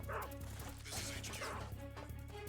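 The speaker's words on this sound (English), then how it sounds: "The dog recognizes me." A guard dog in the video game Metal Gear Solid 3 barks and yips repeatedly in short bursts over dense, loud game sound effects and music.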